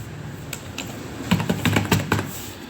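Keys clatter on a computer keyboard in a quick, uneven burst of close, crisp taps that grows denser toward the end, with no voices.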